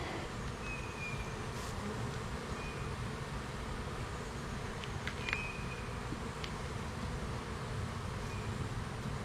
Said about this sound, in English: There were a lot more bees on here in this corner than there were.